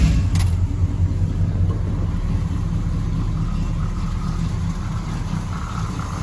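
A 1968 Oldsmobile Cutlass convertible 442 tribute engine catching on a start and settling into a loud, steady, rumbling idle close by.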